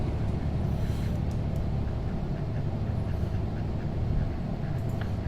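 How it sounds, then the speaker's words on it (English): Faint, scattered duck quacks in a flight simulator, Prepar3D, sound over a constant low engine rumble of a Carenado Navajo PA31 aircraft at Juneau. "I can hear ducks."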